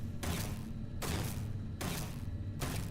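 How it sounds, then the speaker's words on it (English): An NPC in Starfield fires round after round into a corpse, producing a steady string of muffled, distant gunshot bursts in a regular rhythm, faint and with no talking. "If I stay here, she will just continue to shoot the corpse."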